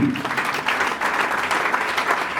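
A church congregation applauding for Jesus, steady sustained clapping from a crowd filling the room, loud and continuous throughout.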